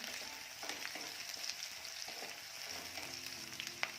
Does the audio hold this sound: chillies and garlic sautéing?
yes